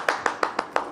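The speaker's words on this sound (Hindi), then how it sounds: "आप में और मेरे साथ जितने भी लोग हैं, जोरदार तालीम इनको वेलकम करेंगे। हिना रिजवी को।" Brief rhythmic hand clapping from a television morning show's studio audience welcoming a guest, six sharp claps evenly spaced, close and fairly loud with no talk over them.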